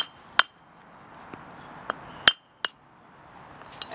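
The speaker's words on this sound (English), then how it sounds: "Let's see what happens when we smash this one" A small geode is being smashed open for a homeschool science project. Several sharp, clinking cracks ring out at uneven intervals, with quiet stretches between them.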